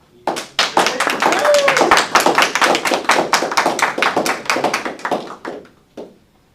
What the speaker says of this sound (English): please give a huge round of applause for the class of 2020 salutatorian